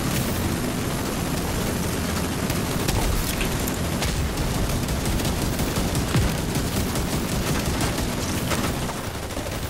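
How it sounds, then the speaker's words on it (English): Automated auto cannon fire in a video game raid, a dense continuous barrage of rapid gunfire and blasts that stays loud and unbroken the whole time, with no talk over it. "Watch the auto cannon."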